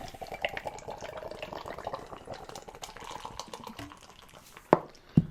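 Cold IPA beer poured into a glass at a brewery, a steady splashing liquid stream with bubbling fill sounds, close up, ending in two sharp glass clinks.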